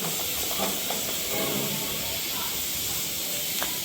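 A pressure cooker on a gas stove lets off a steady, loud, continuous hiss of steam while cooking rice for mutton pulao, with no break across the whole stretch.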